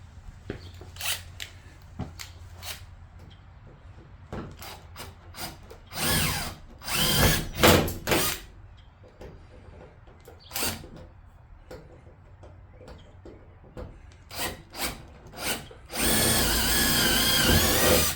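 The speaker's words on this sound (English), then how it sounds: "we need to take an 1/8 inch drill bit and drill these rivets out" Several short, sharp drill bursts and clicks scattered through the clip, ending in a longer steady whine of a power drill with a 1/8 inch bit boring out aluminum rivets up close.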